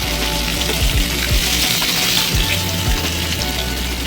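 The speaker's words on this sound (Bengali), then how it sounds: "তিনটে মাছ একসাথে ভেজে নিচ্ছি।" Three pomfret fish shallow-frying together in a pan, a steady loud sizzle and crackle of hot oil with a few soft scraping or turning knocks partway through, close and continuous with no talking.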